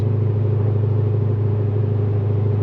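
A cammed, catless Corvette Z06 cruises steadily at about 70 mph, its engine droning as a loud, constant low rumble with no change in pitch.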